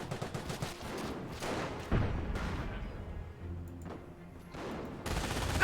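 Heavy 17-pounder anti-tank gun fire in a Company of Heroes battle, with sharp booming shots and scattered gunfire bursts repeating over a busy, continuous battlefield din.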